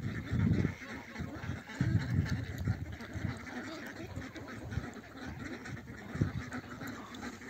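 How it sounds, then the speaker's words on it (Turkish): Geese honking and cackling in a busy outdoor yard while walking, several calls overlapping in irregular bursts over a constant background hum. "Kazlar gidiyor."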